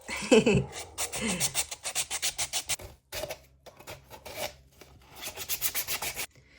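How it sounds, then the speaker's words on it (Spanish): Recycled pot surface being hand sanded for a Halloween Jack Skellington planter, producing close, rhythmic rasping strokes in quick bursts with brief pauses. "vamos a lijar toda la superficie hasta que quede toda bien porosa"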